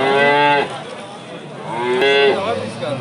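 A cow with a calf moos loudly and close at a livestock market in Dushanbe, a long low call followed by a second, rising moo.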